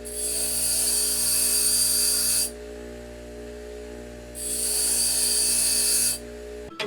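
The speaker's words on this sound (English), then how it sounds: "I think I'm going to grind it just a little more." An angle grinder works a metal part for a rocket car assembly, running in two steady, loud high-pitched bursts separated by a pause, with a constant low hum underneath.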